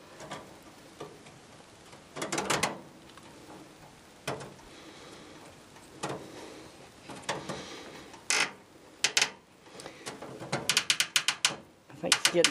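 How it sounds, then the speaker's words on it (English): Small metal fitting being screwed back onto the end of a lawn tractor throttle cable, heard as bursts of close, dry ratcheting clicks and scrapes, growing denser and louder toward the end, with no talk. "what I'll do is screw that back on this end of the cable"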